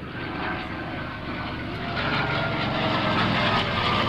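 A Grumman F6F World War II warbird flying at an airshow, its propeller engine a steady loud drone that swells slightly as the plane passes.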